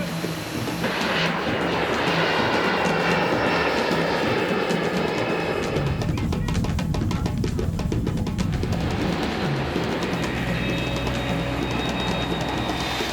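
An airplane flying with a cargo of Kenyan beans, a loud, steady roar with shifting tones that swells in the middle and continues throughout.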